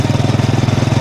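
Close-up motorcycle engine and exhaust at idle, captured by a small clip-on mic mounted near the exhaust pipe: a loud, even chugging pulse repeating quickly with no voices.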